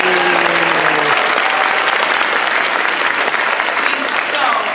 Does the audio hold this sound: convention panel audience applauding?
yes